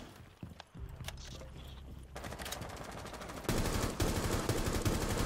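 Rainbow Six Siege gameplay gunfire: sparse muffled shots early, then sustained rapid bursts growing louder toward the end.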